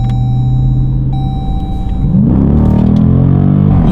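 A Dodge Durango SRT with all-wheel drive accelerates hard. A deep, loud engine rumble surges into a rising roar halfway through as the revs climb quickly.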